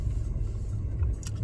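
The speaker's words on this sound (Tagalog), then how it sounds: "Bali, nasa loob tayo ng kotse ngayon." Steady low engine rumble and road hum fill the cabin of a moving car, a constant close drone with a faint rattle near the end and no talking.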